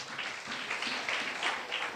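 An audience at a night church revival meeting claps loudly in a dense, continuous patter of many hands that lasts about two seconds without pause.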